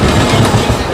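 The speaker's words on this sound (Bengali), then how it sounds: "এই জায়গায় উল্টো পাশ থেকে আর একটা ট্রেন ছুটতে ছুটতে আসছে।" A train rushes past on the opposite track at a suburban Bengal station, a loud close roar with rhythmic wheel clatter filling the whole moment.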